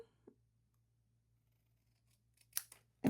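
Scissors snip through a fabric pocket piece at close range, with a faint handling rustle and then two quick, crisp cuts, the last one loud.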